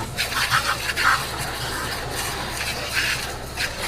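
Weak water spray hissing steadily as it washes mud off an underside, soft and close with small splashy bursts and no talking.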